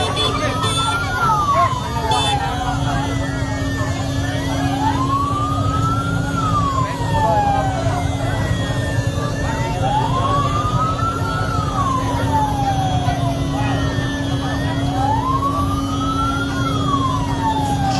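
A fire engine's wailing siren cycles up and down repeatedly as it arrives at a burning Toyota Kijang, loud and close over a crowd's murmur and steady engine rumble.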